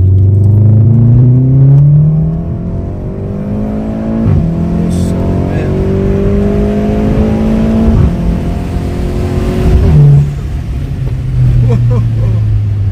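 A powerful tuned performance car accelerates hard nearby, its engine revving up through several gears with rising, rumbling sweeps, loud and close throughout.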